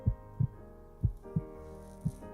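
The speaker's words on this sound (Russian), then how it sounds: "услышьте стук сердца, соединитесь с ним." A heartbeat behind a meditation, with deep thumps coming in double beats at a slow steady pace over a soft sustained musical drone, and no speech.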